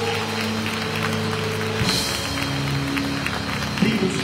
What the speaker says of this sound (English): Come on, let's clap our hands.